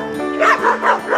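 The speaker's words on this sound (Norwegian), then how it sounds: "Ja, det var veldig mange hunder her." Several dogs at an animal rehoming shelter bark and yip in quick succession, a rhythmic run of three or four close, fairly loud barks.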